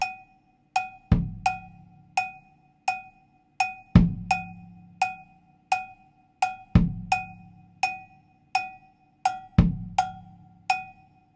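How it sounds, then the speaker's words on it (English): Cha-cha-cha groove on cowbell over a light bass drum tumbao, the bell striking crisp, bright repeating accents while a soft, booming kick lands once per bar, steady and close with no talking. "So let's play cowbell and bass drum, again with that light bass drum tumbao only."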